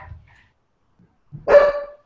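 A dog gives a single short, close bark after a brief quiet pause, alone with no talk.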